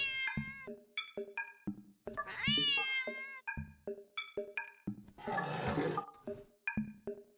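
A cat meows repeatedly, loud and close, in a rapid series of short calls and drawn-out yowls, with a hissing burst in the middle.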